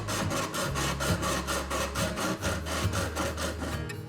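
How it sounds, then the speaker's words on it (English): Hacksaw cutting through a metal tomato paste can in quick, regular back-and-forth strokes, a rasping scrape repeating about three to four times a second, close and steady. "decided to use the hacksaw"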